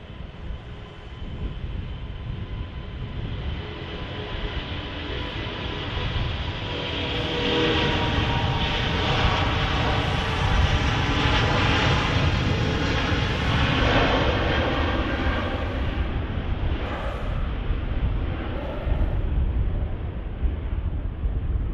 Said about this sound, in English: And off it goes. Emirates A380.